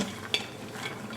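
Onion sautéing in an Instant Pot on the sauté setting, a gentle steady sizzle with one brief scrape of a utensil.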